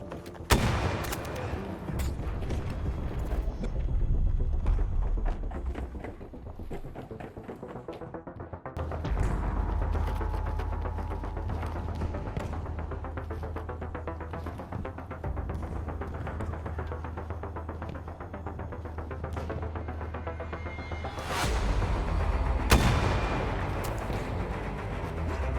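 Rocket launcher blasts, explosions and gunfire from a Battlefield Portal match in which everyone spawns with only a knife and a rocket launcher, a steady rumble of battle punctuated by louder booms, with an especially sharp burst near the end.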